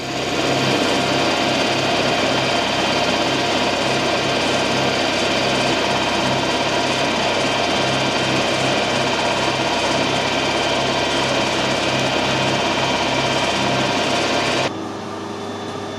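A lathe set up to mill a keyway runs its final 3.2mm cut as a loud, continuous mechanical whine with a steady rhythmic hum, nearby and unbroken until it cuts off near the end.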